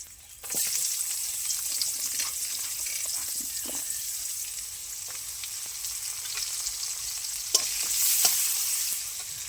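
Chopped onions hit a hot pan and sizzle steadily, a bright continuous hiss with a few faint scrapes of stirring, close and without talk.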